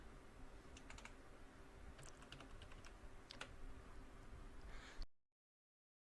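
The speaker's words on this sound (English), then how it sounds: "you type something and you press the tab key, you go to the next cell" Steady typing on a computer keyboard while filling cells in a spreadsheet, a run of quick close key clicks over a faint hiss that stops abruptly near the end.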